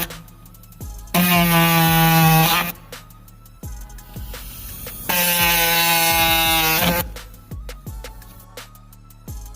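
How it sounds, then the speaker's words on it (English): A reciprocating saw cutting a speaker hole in a car panel buzzes loudly in two long bursts of about a second and a half each, with a pause and clicks and handling noises between them. "So let's get this sawzall and let's go ahead and get cut."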